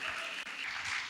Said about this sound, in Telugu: నా మాట అర్థమైన వాళ్ళు చప్పట్లు కొట్టండి.